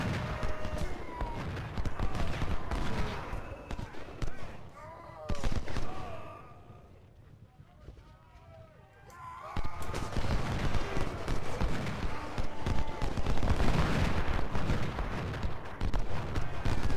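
Dense battlefield gunfire and cannon shots crackle and boom in the Civil War strategy game Ultimate General: Civil War, a continuous loud barrage that eases briefly in the middle before swelling again.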